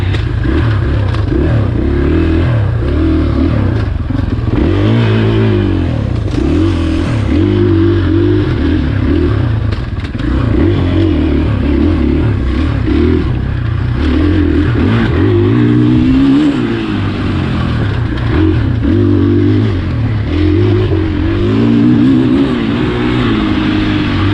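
A 2020 KTM 500 XCF-W dirt bike engine runs loud and close while riding at Crow Canyon, with a steady throaty drone that swells and eases in repeated revs throughout.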